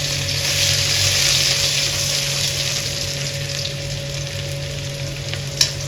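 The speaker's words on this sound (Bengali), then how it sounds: "এবার এর মধ্যে দিয়ে দিলাম রসুন।" Garlic fries in hot oil with dried chilli and black cumin, a loud, steady sizzle with a brief sharp tap near the end and no voices.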